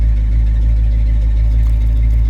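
A 1976 Ford Ranchero 500 with blacked-out trim, engine running at a steady low idle, a loud continuous rumble heard close, with no voices.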